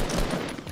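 Dense, continuous gunfire in Fortnite, a rapid fusillade of shots close and loud throughout a short burst, with no talking.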